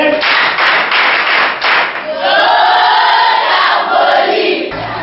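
A class of students claps in rhythmic bursts and then breaks into loud cheering and shouting for a classmate, the whole group close and energetic.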